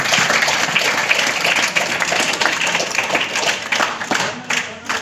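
Schoolchildren in a classroom burst into loud, dense applause for a classmate. The clapping continues steadily for several seconds with a little talk mixed in.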